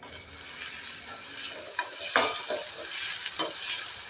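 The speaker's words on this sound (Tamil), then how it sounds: "உப்பு சேர்த்து இந்த வெங்காயத்தை நல்லா வதக்கிக்கலாம்" Onions with salt sauté in a pan for a potato poriyal, a steady hissing sizzle broken by several spatula stirs and scrapes against the metal, close and moderately loud.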